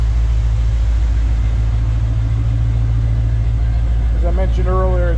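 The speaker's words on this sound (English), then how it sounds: "We'll take the back and let you hear the exhaust." A 1972 Chevrolet C10 short bed pickup's fuel-injected 350 engine idles with a steady, deep exhaust rumble throughout, close by; a voice briefly speaks near the end.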